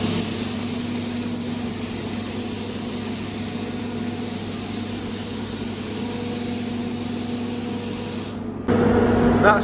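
Spray gun applying solvent base coat paint, Max Meyer mixed with thinner, to Ford Escort RS2000 bumpers, heard as a loud continuous hiss with a steady compressor hum, then a brief cut and a harsher burst.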